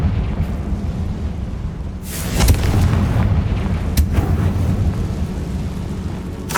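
A Confringo spell explodes in Hogwarts Legacy, a loud booming blast with a sharp crack followed by a rumbling roar, then a second sharper impact, with no talk over it.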